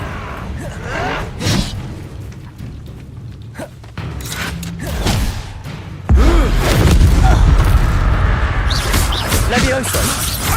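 An Incendio fire spell cast in a Hogwarts Legacy duel: whooshing, thudding magical blasts with a loud burst near the middle, mixed with battle noise and voices talking.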